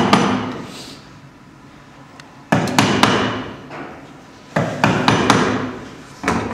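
A hammer strikes a chisel cutting a mortice for a lock into wood, with sharp, close impacts landing in clusters of two or three blows separated by short pauses, each followed by a ringing decay.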